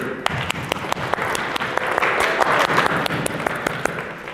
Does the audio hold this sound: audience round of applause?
yes